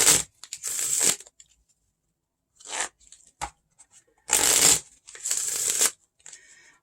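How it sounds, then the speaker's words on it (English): Playing cards are shuffled in several crisp riffling bursts separated by quiet pauses, close and clear with no talking. "So we're just going to do some shuffling, some ASMR for you."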